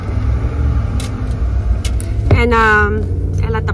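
A bus rumbles nearby with a low engine drone, then a sudden rising whine of gears or brakes as it moves off, while a person talks over it.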